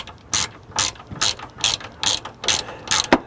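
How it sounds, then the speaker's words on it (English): A ratchet tightens the battery tray holder on a 2015 Subaru Forester, giving seven evenly spaced bursts of loud, close metallic clicking with no talk. "I get my ratchet, turn it to lock, or to tighten."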